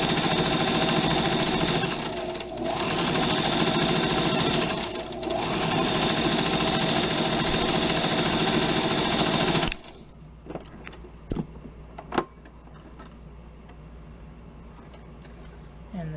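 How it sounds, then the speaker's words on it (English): Sewing machine stitching down the folded hem of a cloth napkin, running in steady, loud continuous bursts with two brief pauses, then stopping abruptly, followed by quiet handling clicks and rustles. "And you're just trying to sew in the very middle of that."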